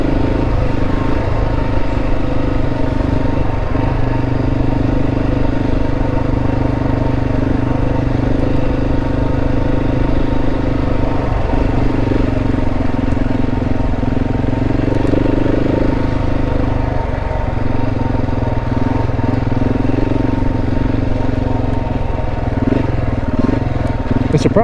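Motorcycle ridden on a long road trip through Oklahoma: a loud, steady engine drone with wind roar that carries on without break throughout, heard close from the rider's position.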